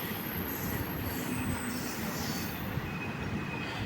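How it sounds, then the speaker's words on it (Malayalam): Madurai–Punalur train 16730 rolls into a village railway station in Kerala, a loud, steady roar of wagons and wheels with faint squeals, continuous and close throughout. "ഇതൊരു ട്രെയിൻ വരുന്നുണ്ടല്ലോ. ഇത് നമ്മുടെ മധുരൈ പുനലൂർ വണ്ടിയാട്ടാ, 16730."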